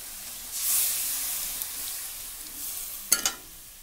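Chicken curry mixture simmering in a pan after water is added, a faint steady hiss with a brief surge of steam early on and a short sharp clatter near the end.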